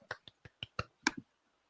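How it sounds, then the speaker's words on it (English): Soft, polite golf clap from a single person, about seven sparse, crisp claps spaced unevenly over a second and a half, close and quiet with no talking. "I just put this in here so we can give them a golf clap"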